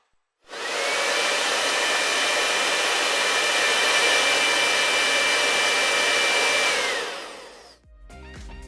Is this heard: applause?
no